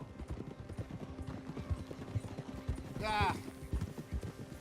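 Horse hooves clip-clopping in Red Dead Redemption 2 at a lakeside camp, a steady rhythmic trot close by with a brief whinny partway through, under a voice speaking.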